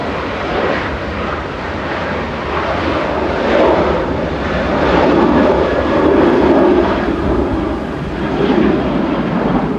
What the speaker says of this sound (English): That's TUI off to Antalya